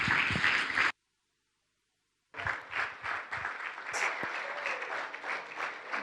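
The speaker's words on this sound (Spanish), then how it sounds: "Con este aplauso la recibimos." A church congregation breaks into applause to welcome a speaker: a burst of clapping, a sudden full dropout of about a second and a half, then clapping resumes, lively and close, with a few shouts mixed in.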